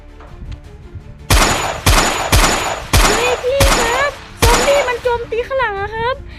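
Gunfire in the sandbox video game Melon Sandbox: five or six loud, sharp shots in a steady rhythm, each followed by a short tail, with people talking and reacting over and between them.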